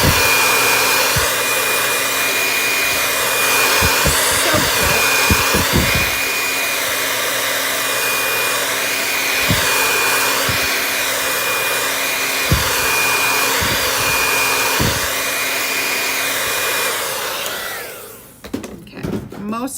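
A hair dryer blows steadily at close range, drying paint on a football door sign, with a constant whine and a few thumps and taps, until it cuts off near the end.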